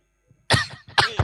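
A person coughs in a short sequence of three harsh, close bursts after a brief quiet moment, with no talking.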